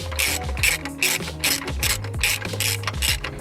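A hand ratchet clicks in quick repeated bursts as it turns a nut during turbo removal, close and rhythmic, each stroke a rapid rattling series of pawl clicks.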